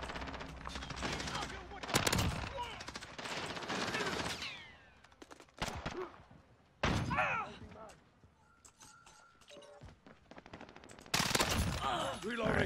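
Rapid automatic gunfire and heavy shots in a first-person shooter video game come in loud bursts near the start, middle and end, with quieter stretches between.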